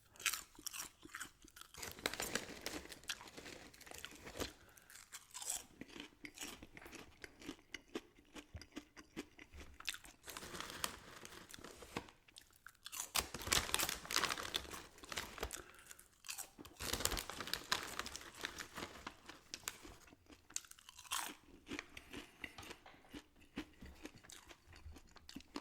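Kettle corn popcorn being chewed close to the mic, with loud crisp crunches in rhythmic bursts and short pauses between mouthfuls, no talk.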